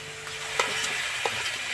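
Ginger-garlic paste hits browned onion in hot oil for doi katla, giving a close, even sizzle with a couple of sharp spatula scrapes and no talking.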